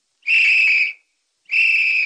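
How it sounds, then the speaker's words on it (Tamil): Two loud, sustained whistle notes sound close by, each about half a second long, with a short gap between them. "விசில் எனக்கு ரொம்ப பிடிக்கும்."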